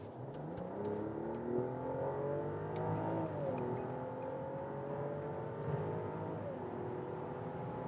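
A Mercedes S500 S-Class (V223, AMG Line) pulling away hard from 50 km/h, its engine note rising steadily in pitch with a smooth sweep and a couple of shift dips, heard continuously from inside the cabin.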